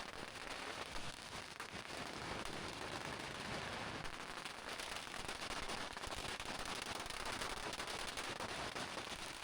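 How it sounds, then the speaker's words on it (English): Strings of firecrackers crackle continuously and densely during a local street parade in an old town centre, a steady dense popping that fills the scene without pause, neither close nor far. "the firecrackers are the most intense during most parades"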